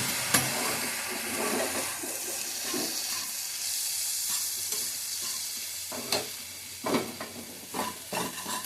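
Eggplant bharta is stirred and mixed with spices and coriander leaves in a pan, giving a soft sizzle under scattered scraping and clattering stir strokes that grow sharper and more separate toward the end.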